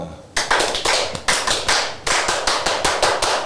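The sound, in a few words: Pramuka scout rhythmic clapping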